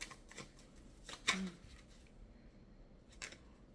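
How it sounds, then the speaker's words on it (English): A deck of animal oracle cards is shuffled by hand, giving a few short, soft riffling bursts with quiet pauses between them. "since I've been shuffling these animal cards again"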